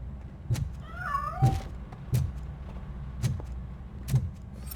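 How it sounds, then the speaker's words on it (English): A cat in RoboCop Rogue City gives a drawn-out wavering meow, surrounded by a series of sharp, regular thumping knocks spaced about a second apart over a low hum. "That cat must be hiding inside."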